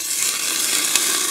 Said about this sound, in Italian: Tiro su un po' di buccia d'arancia e pure questa la rosoliamo